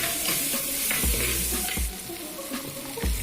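Pork pieces frying in hot oil in a home kitchen, a continuous dense sizzle broken by several heavy stirring scrapes and clunks of the spoon in the pan, close and fairly loud with no talking.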